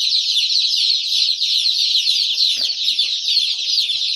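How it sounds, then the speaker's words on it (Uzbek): Eight-day-old Andijan black chicks chirp constantly, a dense, high-pitched chorus of many tiny peeps with no pauses. "Andijon qora jo'jalarimiz bor."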